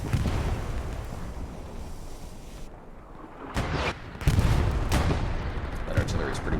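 Artillery fire in a 49-versus-49 online war game match, heavy booming blasts landing at mid distance amid steady battle noise, with a few louder impacts late on and a caster talking over it.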